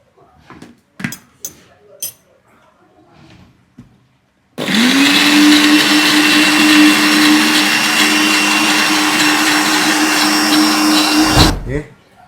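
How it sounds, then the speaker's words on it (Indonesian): A kitchen blender grinds ingredients including shrimp paste for fried chicken, starting abruptly and whirring loudly and steadily for about seven seconds before cutting off, after a few brief clatters and voices. "Blender lagi."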